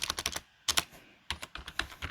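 Rapid keystrokes on a computer keyboard typing a git checkout command, several quick bursts of close, crisp clicks separated by brief pauses.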